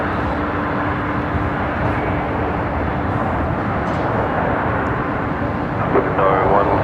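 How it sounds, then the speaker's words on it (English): Jetstar airliner arriving from Sydney at Brisbane Airport, heard as a steady, broad jet roar filling the whole stretch at even loudness, with light talk faintly over it. "this is Jetstar 810 coming in here from Sydney this morning"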